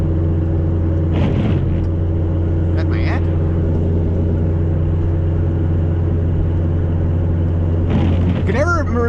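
Small inline-four car climbing a big hill under load, a constant loud engine drone with steady low harmonics throughout, while people in the car talk briefly over it.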